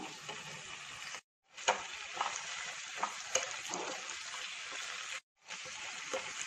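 Green chillies and curry leaves fry in hot oil with shallots while being stirred in a pan for a duck roast: a bright, steady sizzle with stirring scrapes, briefly cut to silence twice.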